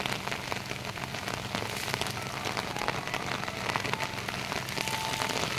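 Heavy monsoon rain falls on flooded rice fields in Konkan during planting, a dense, steady hiss of drops that continues without a break.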